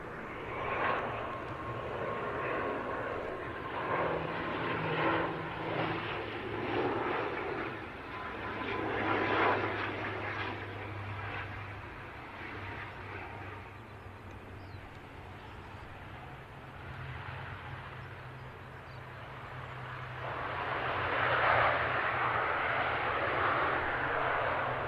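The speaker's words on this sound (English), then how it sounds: "Meanwhile, got a prop on the way in." A propeller aircraft inbound from Belfast to Manchester Airport, a steady distant engine drone that swells and fades, growing louder toward the end.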